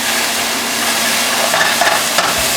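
Carne asada steak searing in a hot pan, a loud continuous sizzle close up with a few sharper spits and a clank near the end.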